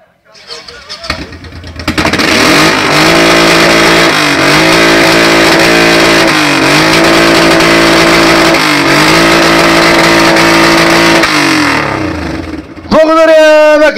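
A motorcycle engine revs loudly and steadily for about ten seconds, dipping and surging several times before cutting off, then a voice begins.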